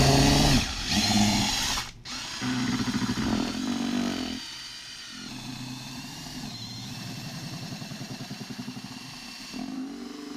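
A handheld power mixer churns thick espresso scrub, whining loudly in short bursts, then settling into a lower, steady pulsing whir as it works through the mixture.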